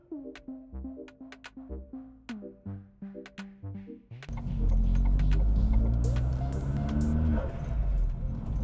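An Astra VXR with an M32 gearbox shifts through the gears: a sparse rhythm of clicks and knocks, then the engine rises to a loud, steady drone with pitch sweeps as it pulls through third and fourth gear.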